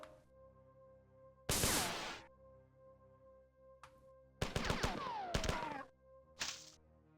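Heavy, chunky weapon blasts from the classic Marathon video game ring out in short bursts, a loud single shot, a brief pop, a cluster of rapid booming reports and a final shot, over a low droning game ambience.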